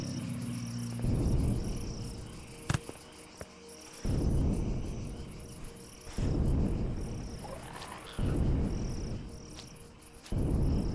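Green bug creatures in the Empyrion video game making loud insect-like chirping trills in repeated bursts of a second or two, separated by brief quieter gaps, alone without talk.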